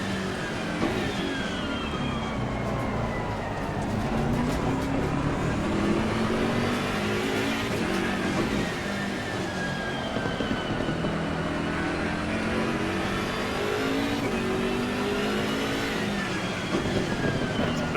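Engine of a racing car in a sim racing video game, a steady continuous drone with rising and falling pitch sweeps as it revs and shifts, loud and alone with no talk.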